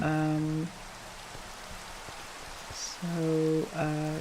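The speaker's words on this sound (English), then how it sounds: "It's raining" Rain falls steadily in Minecraft as a soft, even hiss, faint beneath a voice talking at the start and the end.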